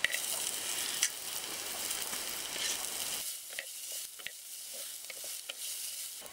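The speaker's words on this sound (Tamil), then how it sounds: "தக்காளியும் வெங்காயமும் நல்லா வதங்கிடுச்சு, இப்போ எடுத்துக்கலாம்." Onions and tomatoes sauté in a pan, giving a soft, continuous sizzle at first, then quieter frying broken by scattered stirring clicks and scrapes.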